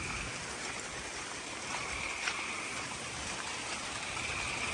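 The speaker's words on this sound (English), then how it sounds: "So the seasonal creek runs behind our building here, under the driveway." A seasonal creek running after a storm behind a farm building and under a driveway culvert gives a steady, broad rushing wash of flowing water, constant and fairly close, with no talking.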